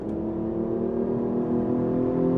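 A Hyundai Genesis Coupe with a 3.8-liter V6 and an air intake noise generator revs steadily with a continuous, loud, throaty hum, heard close and alone.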